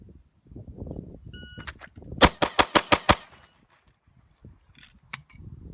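Six pistol shots fired at a target 3 yards away in a rapid, evenly spaced string, loud and sharp, followed by quieter clicks and handling noise.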